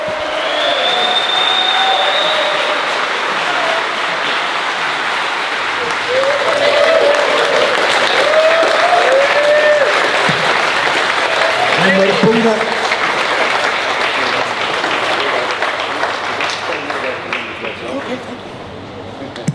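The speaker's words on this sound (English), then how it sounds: "Let's go for another round of clapping, guys." A gym audience applauds continuously for a visiting bodybuilder, steady dense clapping with scattered voices and a few whoops mixed in, loud throughout and thinning slightly at the very end.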